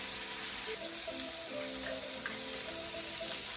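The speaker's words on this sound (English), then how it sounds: "Now I'm just going to sear it on the other side." Chicken thighs sear in a pan with a steady, even sizzle and crackle, close and continuous throughout, with faint clinks and no talking.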